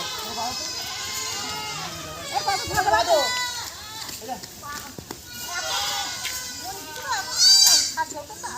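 Several goats bleat repeatedly nearby, their cries rising and falling amid outdoor chatter of people talking over them.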